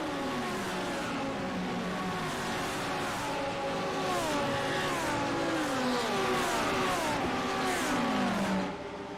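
Sim racing game cars accelerate as a field rolls from the green flag, engines rising and shifting through gears in repeated sweeping climbs, loud and steady with layered overlapping motors.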